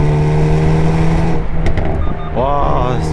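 Hyundai Veloster N pulling away through the gears, its exhaust droning loud and steady in the cabin as it accelerates, with a brief rising whine near the end and a voice talking over it.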